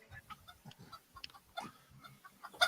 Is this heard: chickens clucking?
yes